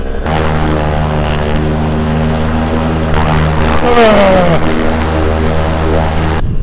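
A paramotor's propeller engine runs steadily at 4,000 RPM, a loud, close, continuous droning buzz with a strong, even tone throughout.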